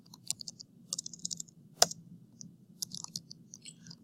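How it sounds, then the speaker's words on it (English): Computer keyboard keys tapped in short irregular bursts, crisp clicks with one sharper keystroke near the middle, quiet and close against a low background hum. "struggling with typing today."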